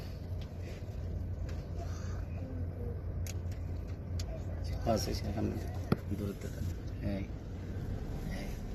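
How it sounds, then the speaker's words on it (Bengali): A car travels near Wadi e Jinn outside Madinah, Saudi Arabia, its steady low engine and road rumble holding throughout, with a faint sharp knock midway and soft talk over it. "আস্তে আস্তে দেখবেন গাড়ি স্পিড উঠবে আর চলতে থাকবে।"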